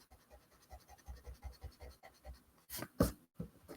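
An eraser rubs over a pencil drawing on paper in quick, rhythmic back-and-forth scrubbing strokes, close up, ending with a louder brushing swipe.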